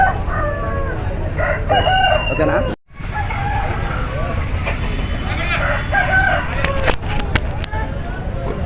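A red speckled rooster crows loudly several times in a rural outdoor poultry sale, while men chat nearby and other fowl cluck in the background.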